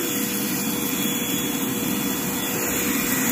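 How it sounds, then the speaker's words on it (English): A vacuum cleaner running steadily, a constant whooshing motor hum at moderate distance with no pauses or talk. "She's actually vacuuming."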